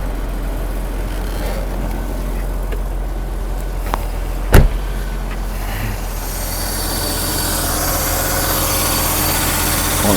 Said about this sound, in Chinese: 那发动引擎了之后呢，压缩机目前是在运转当中